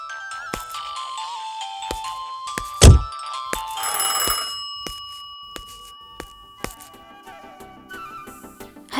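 A phone rings after a call is placed, with tonal electronic ringing notes and bell-like tones repeating over several seconds, punctuated by a sharp thunk midway and a noisy burst, moderately loud and close, with no talking.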